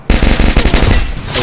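A loud, close burst of machine gun fire in the mobile game Free Fire rattles off in rapid continuous shots, sustained for over a second.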